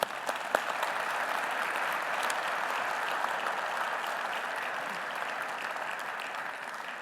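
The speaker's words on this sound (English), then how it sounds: "give them a round of applause to welcome them to the meeting" Sustained audience applause fills a conference hall at an international MICE summit, a dense, even wash of clapping from a large crowd lasting throughout without pause.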